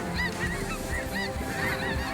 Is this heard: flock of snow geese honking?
yes